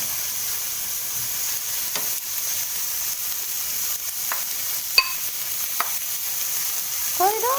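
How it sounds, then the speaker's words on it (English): Onions sauté in a hot pan for Jamaican beef pies, giving a steady, even sizzle and hiss with a few light clicks of a utensil stirring and a short scrape near the end; no talking. "going to saute these onions until they get translucent"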